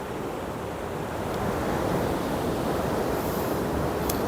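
Sea waves wash onto a beach in Phang Nga, southern Thailand, a steady broad rush that builds slightly after the first second, with wind buffeting the microphone and no voices.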